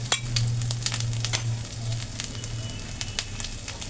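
Pumpkin cooking in a hot pan, with ingredients poured in, gives a steady, loud sizzle scattered with sharp crackles and pops throughout.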